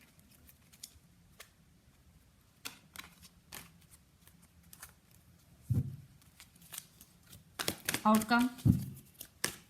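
Tarot cards rustle and flick as they are shuffled and pulled from a deck, soft quiet snaps early on building to a louder riffling burst near the end, with a voice speaking briefly over it.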